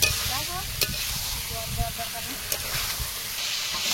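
Eggs go into a sizzling curry in a pan, with a steady frying hiss, stirring scrapes and a few sharp clinks, while voices talk faintly in the background.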